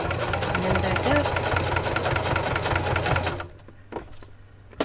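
A sewing machine stitches a Barbie doll dress in a steady, rapid mechanical chatter, loud and close, then stops abruptly, leaving a few faint handling clicks and thuds.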